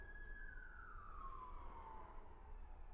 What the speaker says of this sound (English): I don't know if y'all heard the sirens just now